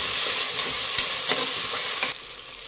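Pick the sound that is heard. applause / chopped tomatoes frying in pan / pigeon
chopped tomatoes frying in pan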